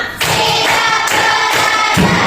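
Classroom ice-breaking clap game with hands clapping, several crisp claps at roughly half-second intervals, near and loud, over a steady background of voices.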